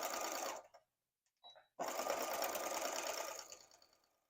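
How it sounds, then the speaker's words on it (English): Sewing machine stitching quilting lines on a bandana bag, running steadily up close, pausing briefly, then resuming in a long continuous run that slowly fades. "So I'm going to continue to go down these lines, and we're just doing just a little bit of quilting on this."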